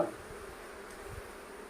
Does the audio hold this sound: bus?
no